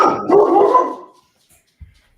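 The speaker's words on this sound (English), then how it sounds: "The dog don't like you, Billy." A dog gives a single close, loud bark with a whining edge, followed by silence and a faint small thud.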